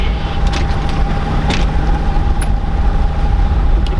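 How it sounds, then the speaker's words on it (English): The small inboard or outboard motor of a Dana 24 sailboat runs while motor sailing off Catalina Island, a continuous, close, loud engine drone with a faint tonal whine. "Keep the motor running at this point probably."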